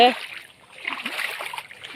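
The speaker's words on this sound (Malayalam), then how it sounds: "ഇപ്പോഴാണ് ഇതിലൊരു തോട്ടിലിറങ്ങി പുഴയിലിറങ്ങി ഇങ്ങനെ നടക്കുന്നത്" Feet splash and slosh through a shallow stream while someone wades along it, giving soft, scattered watery splashes at close range. One louder splash comes at the start, followed by a brief lull.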